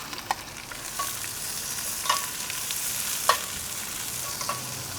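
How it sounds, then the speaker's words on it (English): Onions cook down in chili-infused oil inside a preheated Dutch oven on a grill, a constant soft sizzle with a few light spoon clicks against the pot. "we're gonna start to cook down our onions"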